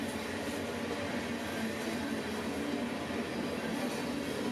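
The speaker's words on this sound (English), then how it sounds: "One last look as the engines go by." CSX Q541 freight train engines rolling past in open country, a steady broadband rumble and roar throughout, fairly loud and without talk.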